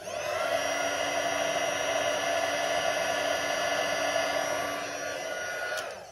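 An embossing heat tool blows hot air over black embossing glaze in a craft demonstration, a steady loud whirring hiss like a hair dryer that holds constant for about six seconds and eases slightly near the end.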